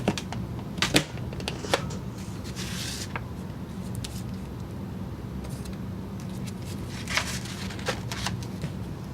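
A Big Shot die-cutting machine presses napkin paper, producing a series of sharp clacks, snaps and rustles close by over a steady low hum, with a louder burst of crinkling near the middle.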